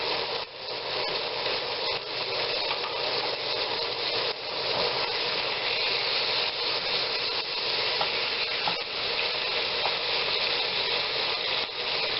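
Three strips of bacon fry in a pan, crackling and sizzling in a dense, continuous hiss close by, with fine popping throughout and no voices.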